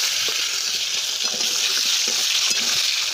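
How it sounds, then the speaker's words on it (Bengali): Raw tomato frying in oil in a home kitchen, a steady continuous sizzle with faint stirring clicks, close and fairly loud throughout with no talk. "কাঁচা টমেটোটা ভেজে নিচ্ছি"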